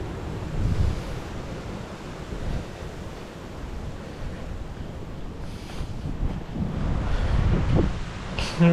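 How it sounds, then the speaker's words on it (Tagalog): Strong wind buffets the microphone on a hillside path, a continuous rough roar with gusty swells and low thumps, loud and close throughout. "lakas ng hangin"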